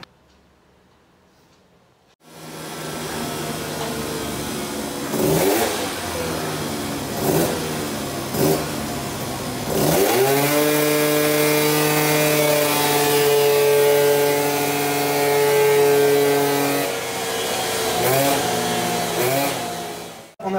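A scooter engine fitted with a Malossi 70 cast iron kit starts up and revs hard on a dyno, climbing to a loud sustained high-rpm buzz that holds, then the revs drop away near the end.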